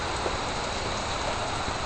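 Heavy rain pours down during a thunderstorm in a dense, loud, unbroken hiss that fills the space close by, with no voices over it.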